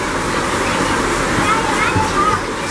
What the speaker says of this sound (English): There's some serious rain